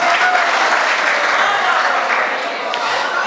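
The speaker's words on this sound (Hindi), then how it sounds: "एक बार तालियों के साथ में मेरा स्वागत कर दीजिएगा।" Audience applause at an Urdu shayari poetry recital, a dense, steady wash of many hands clapping close and loud, holding evenly throughout without any speech over it.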